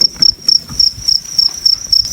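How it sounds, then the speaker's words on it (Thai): Breeding crickets on a Thai cricket farm chirp in a loud, shrill, rapid trill, pulsing in regular bursts about four times a second, close and without any voices. "นี่คือพ่อพันธุ์แม่พันธุ์นะครับ ของจิ้งหรีดเงินล้านนะครับ"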